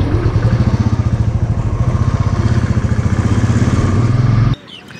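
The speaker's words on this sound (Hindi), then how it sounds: "मुझे किक का इस्तेमाल करना पड़ेगा" A motorcycle whose electric self-start is out of action is started with the kick lever, then its engine runs with a loud, steady, rapid thumping beat close by before abruptly cutting off near the end.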